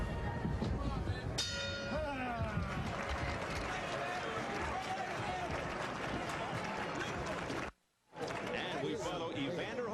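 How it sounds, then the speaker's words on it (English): A boxing ring bell rings at the Evander Holyfield vs Dwight Muhammad Qawi rematch. It is a bright metallic clang that rings out early, then fades under constant arena crowd noise and commentary. "We head for the bell."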